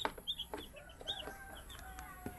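Young chicks kept indoors near a light peep in faint, high, scattered chirps, with a few soft clucks mixed in.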